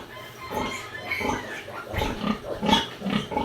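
A noisy sow grunts and oinks in a series of short, repeated bursts at close range, moderately loud and irregular, with no talking over it.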